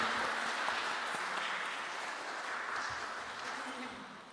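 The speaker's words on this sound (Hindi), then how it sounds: "भरपूर तालियों में एक दूसरे को मुबारकबाद पेश करेंगे।" Congregation at a Urdu-speaking Pakistani community church Christmas celebration applauding steadily throughout, a broad, even wash of clapping from a fairly distant crowd that slowly fades toward the end.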